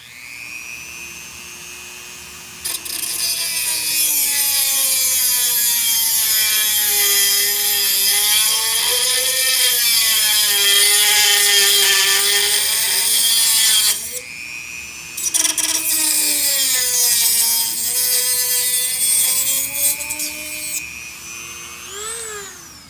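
Power saw cutting through the side of candle lantern material, a loud continuous whine running for most of the stretch with a brief gap partway through, close and alone with no talk.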